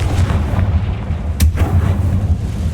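Confringo blast spell fired in the video game Hogwarts Legacy: a loud, continuous roaring boom with a sharp crack near the middle, heavy low rumble throughout and no speech.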